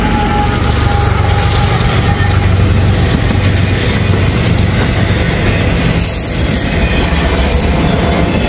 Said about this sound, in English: We do have a CSX train coming on, I believe, Main 1.